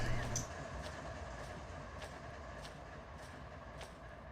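A train backs up slowly in the Run 8 Train Simulator game, heard from outside as a faint, steady rumble with light periodic clicks of the wheels on the rails.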